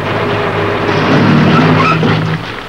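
A car speeds along and skids, its engine roaring loudly with a brief squeal of tyres before the sound eases off near the end; no one speaks.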